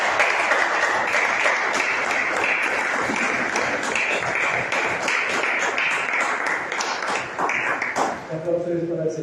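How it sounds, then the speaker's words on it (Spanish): Loud sustained applause from a congregation at a Christian worship service, steady for several seconds before fading as a voice begins speaking at the end. "Aplausos para el Señor"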